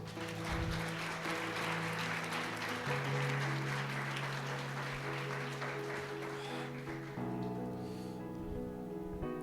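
Steady applause from a church congregation during a sermon, with sustained music playing underneath throughout.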